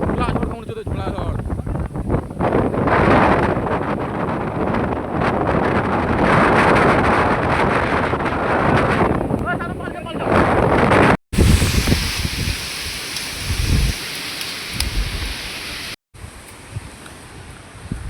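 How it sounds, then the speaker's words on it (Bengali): A strong storm wind sweeps across an open farm field, roaring loudly against the microphone in heavy gusts, with a person talking over the blustering noise. "ঝোলা ঝড় কেমন হচ্ছে, ঝোলা ঝড়।"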